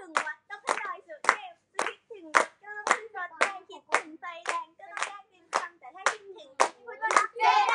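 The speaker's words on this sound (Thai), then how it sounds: "โอเครอบนี้ให้ปรบมือด้วยนะคะ" Clapping at an idol livestream, a single pair of hands clapping in a steady rhythm, close and crisp, with a voice talking between the claps.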